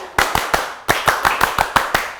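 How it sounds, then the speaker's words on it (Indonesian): A studio audience of about 189 people does scout-style rhythmic clapping: a quick burst of three sharp claps, a short pause, then a faster run of seven, crisp and in unison. "Tepuk pramuka."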